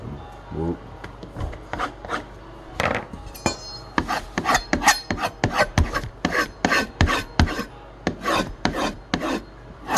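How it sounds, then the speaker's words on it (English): A knife blade is stropped in rapid, rhythmic back-and-forth rasping strokes. They are close and loud, speeding into a dense run of strokes. "When you're stropping, it doesn't matter to come up a little bit more on the edge, because you're trying to bend that burr around and over the edge"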